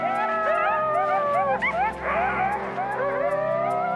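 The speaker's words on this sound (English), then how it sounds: "This group howl means they're all still buddies." A group of coyotes in Yellowstone howls together, their wavering, overlapping howls and yips rising and falling continuously. The chorus sounds close and loud.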